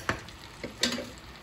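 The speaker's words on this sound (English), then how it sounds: "I think our tajine, it's frying nicely." Lamb tajine sizzles and fries in a pan, with a couple of sharp clinks of a utensil stirring close by.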